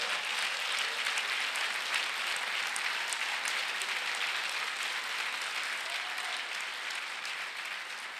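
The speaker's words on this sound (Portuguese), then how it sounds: "Vamos dar um aplauso a Jesus por isso?" A church congregation at a pastors' gathering applauds together, a steady, fairly distant wash of many hands clapping without pause.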